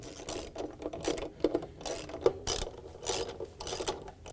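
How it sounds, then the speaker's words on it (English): A ratchet with a 10mm socket tightens bolts on the stator of a Samsung washer, producing close, rapid clicking bursts in repeated back-and-forth strokes. "we can use our 10mm socket to go around and put the rest of the bolts in"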